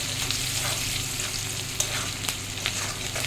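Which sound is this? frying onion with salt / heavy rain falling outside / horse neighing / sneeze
frying onion with salt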